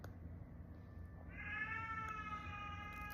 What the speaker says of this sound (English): That is my sister's cat yelling in the background.